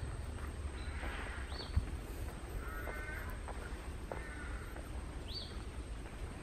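Several harsh crow caws ring out at intervals over a steady outdoor background hum, with a sheep-like bleat mixed in at moments.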